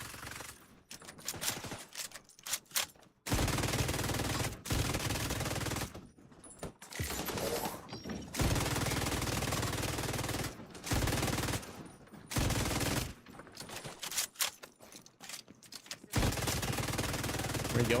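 An Alejandro light machine gun with a boosted fire rate in The Division 2 fires long, rapid bursts of close, loud shots, broken by short pauses between strings of fire.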